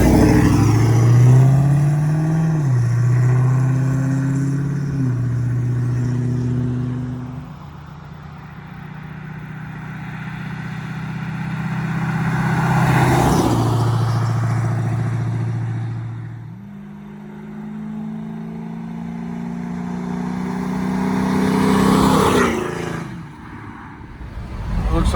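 LS-swapped 1966 Chevrolet C10 pickup with a Carven exhaust passes by on the street, a deep steady engine drone that rises and falls as it approaches and recedes, then pulls past again under moderate acceleration with a climbing exhaust note.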